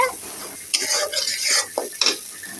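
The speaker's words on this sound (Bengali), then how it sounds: "মশলাগুলো খুব ভালো করে কষিয়ে নেওয়া হচ্ছে।" Spices being sautéed in a karahi for a wedding-style roast, with a utensil scraping and stirring in bursts over a soft sizzle, close and moderately loud, no voices.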